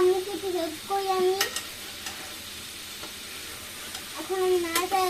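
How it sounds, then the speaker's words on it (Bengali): A spoon stirs pangas fish and taro stolon curry in a hot pan, with steady close sizzling, scraping strokes, and brief squeaky tones near the start and end. "এখন আমি নাড়াচাড়া দিয়ে দিব।"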